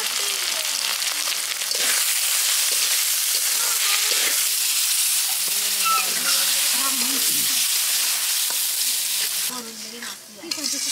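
Rooster meat sizzling in a pan with garlic, ginger, cumin, turmeric and chili paste, a steady loud hiss and crackle throughout, with occasional stirring and faint voices in the background.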